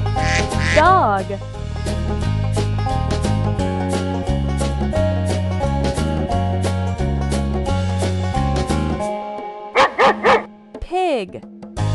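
A cartoon-style dog barks in a quick burst of yips near the start and again in several sharp barks toward the end, over a steady, loud musical backing from a farm-animal stacking game.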